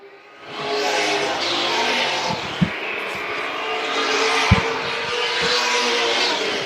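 Vintage race cars lapping a track at the Southern Vintage Nationals in Dillon, South Carolina, a continuous roaring engine drone that swells and fades as cars pass at a distance, with a couple of sharp knocks, no talking.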